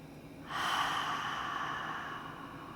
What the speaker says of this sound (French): Expirez par la bouche.